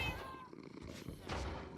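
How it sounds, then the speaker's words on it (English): An orange cat in the Minecraft video game gives short, quiet meows, one drawn-out call followed by another within a couple of seconds. "There's only room for one orange cat."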